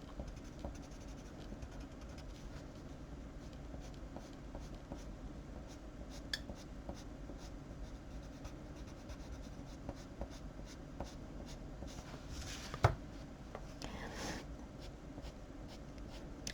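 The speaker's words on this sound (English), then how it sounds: "you are doing this flickering thing with your pencil, where you press harder when you start" Soft, continuous pencil strokes scratch across paper while drawing hair, a quiet, steady flickering rasp close to the ear with a few sharper taps.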